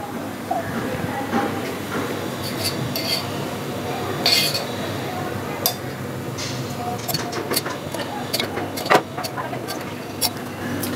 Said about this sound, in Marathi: त्याच्यामध्ये मी आता त्याच्यावर मी झाकण ठेवते.